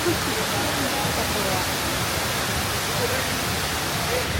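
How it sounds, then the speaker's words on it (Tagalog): Indoor waterfall at Dubai Mall: a constant broadband rush of falling water, loud and even for the whole stretch, with no clear talk over it. "baba ng yung unang waterfall"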